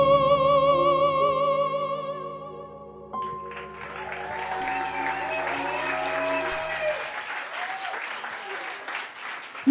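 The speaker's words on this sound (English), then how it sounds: "make a huge round of applause for Doña Benigo" Applause from the audience at a live song contest final, a wash of clapping and cheering rising as a sustained musical chord cuts off, with a voice calling out over it.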